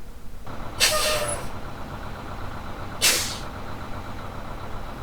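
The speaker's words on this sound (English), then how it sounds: "So listen as I put the brakes in all the way." Two sharp hissing bursts of air brakes fully applied on a Wentward D40L bus in BeamNG.drive, the first longer, the second shorter, over a low idling engine hum.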